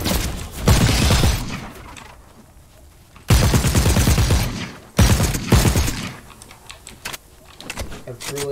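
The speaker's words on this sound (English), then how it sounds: "I really like the sound this silver rifle makes." Silver rifle fire in the shooter game The Cycle, sounding as three loud, sharp bursts spaced a couple of seconds apart, with quieter game noise between them and talking underneath.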